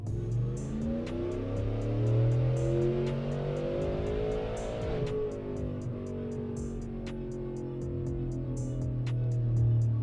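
A supercharged, cammed Chevrolet Silverado engine roars steadily on a dyno pull, harmonics climbing and falling as the revs sweep through the run, loud and continuous from start to finish.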